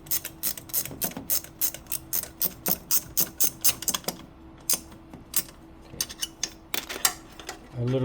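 Rapid bursts of ratchet wrench clicking while working on a Ford Mustang motor, close and crisp, in quick runs separated by short pauses, with a voice briefly heard near the end.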